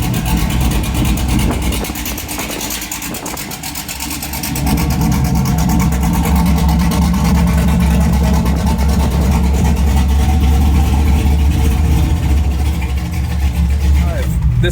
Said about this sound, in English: I'm gonna take it for a quick spin,